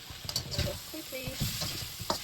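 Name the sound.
stirring mushrooms frying in a pan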